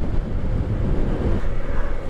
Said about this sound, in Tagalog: Lakas ng hangin na may halong tubig.